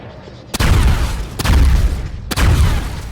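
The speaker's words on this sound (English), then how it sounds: "That's like orbital artillery." Three heavy booming impacts from the orbital artillery ability in the game Paladins land about a second apart, each a sharp blast trailing into a deep rumble, loud and close with no talk over them.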